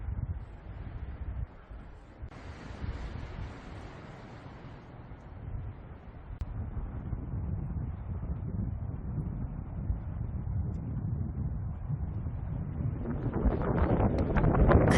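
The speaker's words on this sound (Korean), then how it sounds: "칼바람 소리 들리시나요?" A strong, cold wind blows on a mountain in a steady, heavy roar that buffets the microphone. The gusts swell louder toward the end, with no voices.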